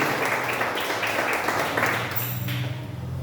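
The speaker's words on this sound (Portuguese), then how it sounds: "Você pode aplaudir o Senhor mais uma vez, meus irmãos?" Applause from a church congregation at a garage worship service, steady dense clapping with a low hum underneath, as a voice and sustained tone begin to come in toward the end.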